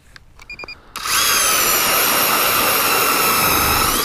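A Strikemaster Lithium 24v Lite Flite battery ice auger starts after a few faint clicks and beeps, then drills into ice with a loud, steady high-pitched motor whine and grinding that holds constant to the end.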